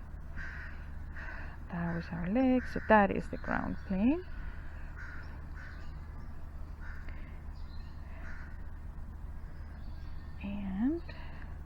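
Crows caw in bursts behind a person talking, outdoors near a horse eating hay at breakfast; one cluster of harsh caws comes early and a lone call comes near the end, moderately distant.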